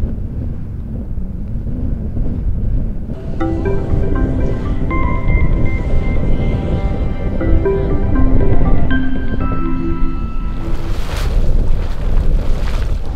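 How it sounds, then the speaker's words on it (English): A fumarole on Iceland's coast vents a huge amount of steam and sulphurous gas with a loud, steady rushing roar, mixed with gusty wind. "It's a fumarole, and it is venting an enormous amount of steam, sulphurous gas, and heat."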